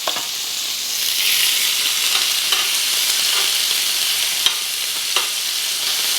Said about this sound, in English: just browning the meat